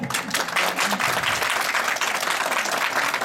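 An audience at a Mawlid un Nabi gathering applauds the children who presented, a dense, steady wash of clapping hands sustained throughout at full volume.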